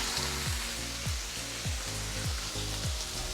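Beef sizzling and frying in a pan for rawon, Indonesian black beef soup, a steady loud hiss with rhythmic scraping stirs about every half second.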